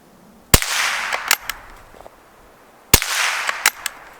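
Two sharp .22LR rifle shots from a Schultz & Larsen Otterup, each a loud close crack with a brief airy tail, followed by small clicks and clatter of the action, spaced a couple of seconds apart.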